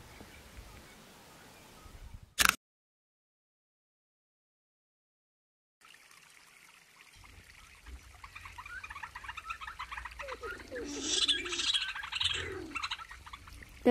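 A common cuckoo calls in Kruger National Park, with scattered bird calls and soft chirps heard at a distance over faint outdoor ambience, broken by a sudden click and a stretch of silence.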